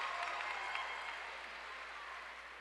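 Crowd applause at a girls basketball final, a steady wash of clapping from a packed gym that slowly fades, with voices mixed underneath.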